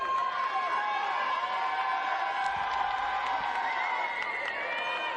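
A crowd cheers steadily at a women's semifinal ultimate frisbee game at the club national championships, producing a continuous wash of distant voices and shouts.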